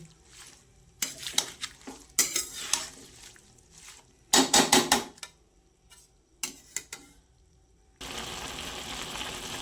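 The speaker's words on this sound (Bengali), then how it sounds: "এবার কিন্তু আর চাপা দেব না, এমনি মিডিয়াম আঁচে নাড়তে থাকবো ঢাকা খুলে।" Onion greens stirred in an open pan over medium heat, bursts of spoon scraping and metallic clatter separated by quiet gaps, then a soft steady sizzle in the last seconds, no speech.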